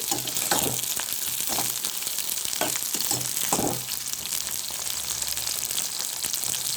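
Eggplant pieces and green chilies frying in a pan with oil, a steady close sizzle broken by a few stirring scrapes early on, with no talk.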